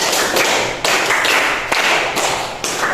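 Classroom group hand clapping in a counted rhythmic pattern, loud, crisp bursts of many hands, with short breaks between sets and no talk.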